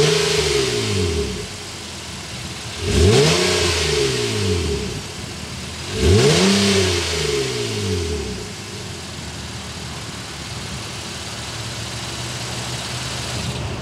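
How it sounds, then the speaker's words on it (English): 2022 Honda Ridgeline V6 pickup, idling steadily with two sharp revs whose exhaust note sweeps up and falls back, loud and close with no talk. "Let's start it up and hear that exhaust note."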